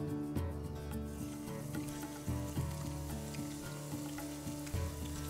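Chopped garlic frying in hot oil for a mixed carrot, cauliflower and turnip pickle, a close, continuous sizzle over a low tonal hum with occasional louder crackling bursts, no voices.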